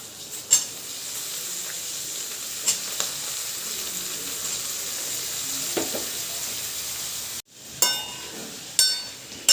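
Cut medium potatoes being stirred into onions frying in a pan: a steady soft sizzle runs throughout, with occasional spoon clinks and scrapes, and a brief break and sharper clatter near the end.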